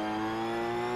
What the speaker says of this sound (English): This thing revs so high too